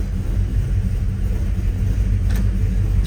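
A 1964 Chevrolet C10 custom truck with a GM 502 crate V8 idles after starting, giving a loud, steady low-pitched rumble that stays constant throughout with no voices.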